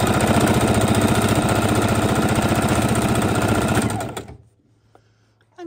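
A sewing machine stitches a tassel onto a fidget quilt, its loud, steady mechanical chatter running for about four seconds before stopping abruptly into near silence.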